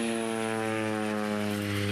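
A propeller airplane takes off and climbs over Central Texas, its engine drone loud and steady with a strong low-pitched hum throughout.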